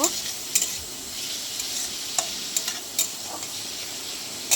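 Steady sizzling of chopped tomatoes frying in a pan, with occasional light clicks and scrapes of stirring; no voices.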